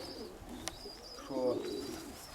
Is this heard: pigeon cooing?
yes